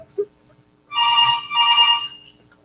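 A telephone rings twice in short electronic bursts, each about half a second long, loud and close with a brief gap between them, followed by quiet.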